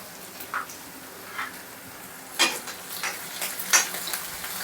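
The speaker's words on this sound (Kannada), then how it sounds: "ಒಂದು ಸ್ಪೂನ್ ಜಿಂಜರ್ ಗಾರ್ಲಿಕ್ ಪೇಸ್ಟ್ ಹಾಕೋತಾ ಇದ್ದೀನಿ" A spoonful of ginger garlic paste goes into a frying pan for egg cheese pakoda and is stirred, giving a soft sizzle with a few sharp scrapes and clinks of the spoon against the pan.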